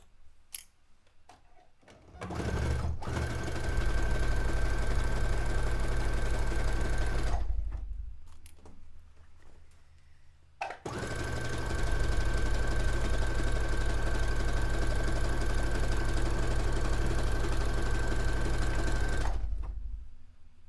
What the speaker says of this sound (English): So while I'm sewing, I'm really trying not to push or to pull my fabric, especially since this is a stretch stitch